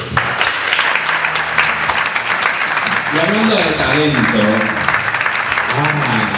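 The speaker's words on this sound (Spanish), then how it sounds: "un fuerte aplauso para ellos" Strong applause for Gabri and Víctor carries through the whole stretch, loud and continuous, while a presenter starts speaking over it partway in.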